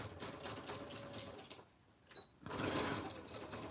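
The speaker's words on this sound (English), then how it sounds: "I'm just back stitching here where my seam is, where I sew those two pieces, just to make it slightly more secure." A sewing machine back stitches a seam with 100% cotton thread, running in short bursts of steady mechanical whirring that pause briefly before starting again, close and loud.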